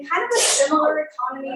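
A sharp sneeze bursts out near the start, loud and close, and a person keeps talking straight through it.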